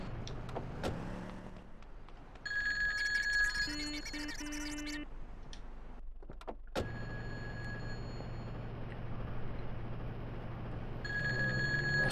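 A telephone rings electronically in Grand Theft Auto 2 (PC), a short burst of pulsed, bright tones over a steady drone of a car engine, which continues after a brief cut to near-silence.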